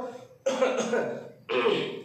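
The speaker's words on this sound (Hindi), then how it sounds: "ऐसे बार बार अपना गला साफ करेगा" Two rough throat-clearing bursts, close to the microphone, the first longer, separated by a short pause.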